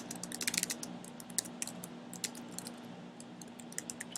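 Typing on a computer keyboard during an HTML coding lesson, with bursts of quick, light key clicks, fairly close and moderately quiet over a steady low hum.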